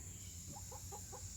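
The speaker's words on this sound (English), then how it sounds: "There's Red Chicken." A backyard chicken gives a short run of four or five soft clucks, fairly faint over a steady low outdoor hum.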